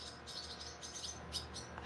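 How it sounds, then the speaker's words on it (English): Birds chirp near their nest outdoors, a run of short, bright tweets repeating irregularly at moderate distance over a steady background hiss, with no one talking. "the birds, look at they chirping, y'all"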